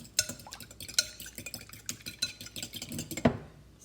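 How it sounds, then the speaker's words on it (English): A utensil stirs ricotta into beaten eggs in a bowl, giving steady scraping swishes and light clinks against the side, close and alone with no talk. "Stir in your ricotta."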